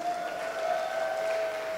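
An audience at a professor's inauguration ceremony claps in a steady, even patter for a moment. A sustained tone from an amplified sound system hums beneath it.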